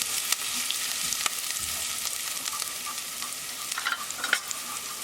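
Garlic sizzles and fries steadily in a pan for chicken soup, a continuous bright crackle with occasional stirring scrapes, moderately loud and with no voices.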